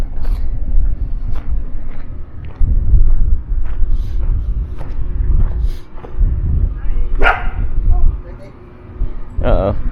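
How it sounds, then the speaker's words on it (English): A herding dog barks in short, sharp bursts at an RV park in Santa Fe, New Mexico, with two louder barks near the end, under steady wind noise and close talking. "Uh-oh, we woke up the doggy."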